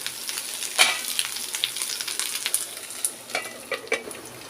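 Okra, French beans, kakrol and potato frying over a low flame in a pan, with a continuous bright sizzle and crackle close up, punctuated by irregular clinks and scrapes of stirring.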